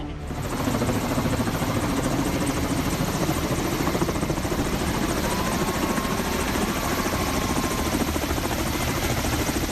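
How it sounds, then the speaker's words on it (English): A KA-32 helicopter scooping river water to fight forest fires gives a steady, loud rotor drone with a rapid chopping pulse, continuous from start to finish. "This KA-32 helicopter is scooping water from a river to fight forest fires."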